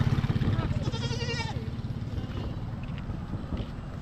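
Goats bleat at a livestock stockyard, a clear wavering cry near the start over a steady murmur of crowd talk, engine rumble and background noise.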